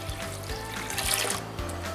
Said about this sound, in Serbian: Evo kada smo sipali vodu, nalili gore do poklopca